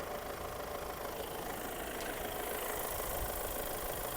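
A Skoda Kodiaq Scout 4x4 idles from a cold start, its engine giving a steady, quiet, even hum with a faint mechanical rattle throughout and no voices.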